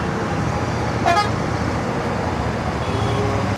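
Road traffic on the way into Bengaluru, with a steady roar of engines and a single short car horn toot about a second in, loud and close, no talking.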